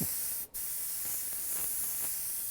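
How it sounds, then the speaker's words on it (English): Steady, loud hiss of a spray gun blowing air to dry freshly sprayed candy red paint, continuous across the whole stretch with one brief dip, no voices. "I'm just spraying air right now to dry it"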